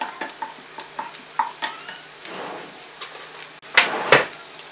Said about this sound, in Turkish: Burada ise soğanlarım kavrulmaya devam ediyor.